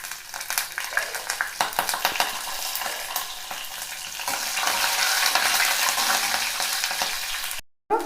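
A bay leaf fries in hot oil with cardamom and cinnamon in a pan for millet kichidi, giving a steady close sizzle broken by scraping stirs, briefly cutting out near the end.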